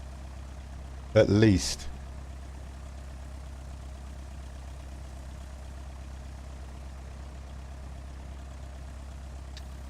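An aircraft engine idles while taxiing in a flight simulator game, a constant low droning hum that holds steady throughout, with a brief spoken phrase near the start.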